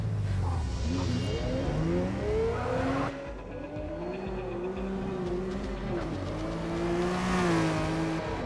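A Ford GT40 Mk. II roars around Laguna Seca in a racing video game, its engine revving up and down through gear changes with rising and falling pitch, loud and close, with no voices.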